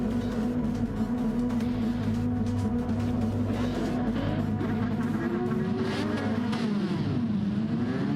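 A Ford Mustang Gr.4 race car in Gran Turismo 7 drones loudly and continuously, its engine pitch rising and falling through gear changes and revs, heard alone without talk.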